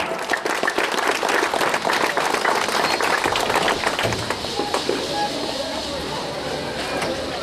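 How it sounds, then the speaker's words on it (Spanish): A crowd at the San Juan Colorado carnival in Oaxaca applauds loudly and continuously, the clapping thinning into a busy outdoor murmur in the later seconds. "Recibámoslos con fuertes aplausos, pueblo de San Juan Colorado."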